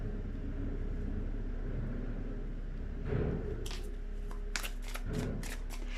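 Tarot cards are handled quietly over low background rumble, with soft rustling that gives way to a cluster of crisp card snaps and flicks near the end.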